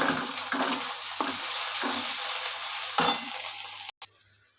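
Mustard and poppy seed paste stirred and fried with onion, ginger and garlic for a prawn malai curry, giving a steady close sizzle broken by a few scraping stir strokes before it cuts off.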